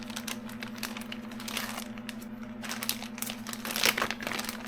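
A headlight restoration kit packet being torn open at its notch, a close crinkly rip with crumpling plastic-foil rustle over a steady low hum, no speech.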